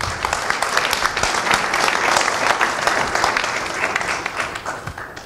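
Audience applause at a French conference fills the room, dense and steady with many hands clapping at once, fairly loud and sustained throughout with no speech over it.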